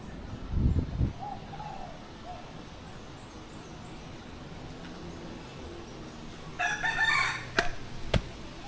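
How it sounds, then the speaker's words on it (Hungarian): At Phuket Bird Park, a rooster crows near the end, loud against steady background noise. Earlier there are low thumps and a softer bird call. "Kakasok."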